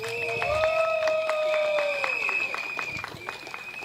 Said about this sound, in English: One more round of applause for Martin